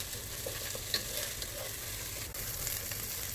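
Onions fry for prawn biryani, browning and caramelizing in oil, with a steady soft sizzle and an occasional faint stir or clink, close up and without talk.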